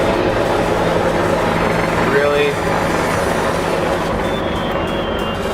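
Helicopters passing over a residential neighborhood, a steady rotor drone with engine rumble running loud throughout, a brief tonal whine partway through, and a voice speaking briefly over it.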